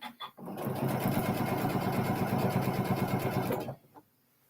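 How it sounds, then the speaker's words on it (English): A sewing machine stitches around the front of a fabric project, running in one steady, fast, close burst of about three seconds before stopping abruptly, with brief handling noises before and after. "Then I got to sew it around the front."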